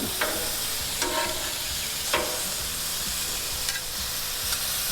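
Shrimp sizzle steadily on a hot Blackstone griddle as they are flipped with a spatula, a continuous frying hiss broken by several soft scraping clinks of the metal tool. No one speaks.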